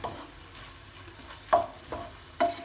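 Olive oil stirred in a frying pan while cooking Bolognese sauce, a soft background sizzle broken by three sharp scraping strokes near the end, close and alone.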